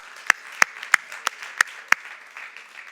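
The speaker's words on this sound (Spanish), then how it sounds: "Dale un aplauso al Señor" A church congregation at a Spanish-language worship service claps in six sharp, evenly spaced beats, loud and close over a faint room murmur.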